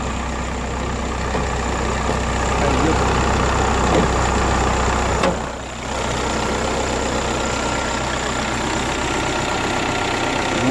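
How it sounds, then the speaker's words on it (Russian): Cold Opel Vectra C wagon with a 1.9 CDTI diesel engine idles just after starting, a steady close rumble with a brief dip in level partway through. "мотор только завел."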